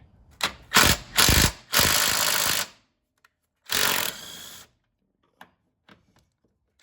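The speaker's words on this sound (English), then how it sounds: "remove these bolts here on top, which, like I said, should be a 13mm" A ratchet spins off 13mm bolts on top of a BMW F10 535i strut during a coilover install, several loud bursts of rapid clicking followed by a few faint clicks and taps.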